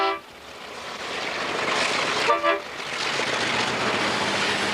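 An Alco RS3 diesel locomotive rumbles with a rough, broadband roar that builds steadily, with a short horn-like toot near the start and another midway through.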